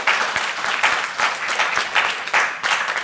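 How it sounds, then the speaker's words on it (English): Applause from a conference audience for a keynote speaker at a Pi Day data science event, dense steady clapping across the whole stretch, full and close with no voices over it. "let's give our speaker another round of applause"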